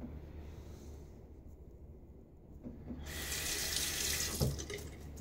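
Cold water gushes from a tap into a sink before a wet shave, starting about three seconds in and running steadily and fairly close, after a quieter stretch of low background hum.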